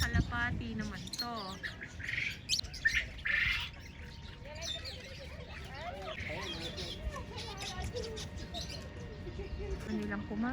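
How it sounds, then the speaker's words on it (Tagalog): Pigeons at a mini zoo in Hail, Saudi Arabia, give faint squawks and chirps among other birdcalls, with people chatting nearby over the whole stretch. "Mga kalapati naman to."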